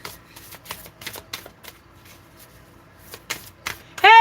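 Playing cards shuffled at a live tabletop game, a series of crisp riffling bursts in quick succession, close and clear, ending with a brief high squeal.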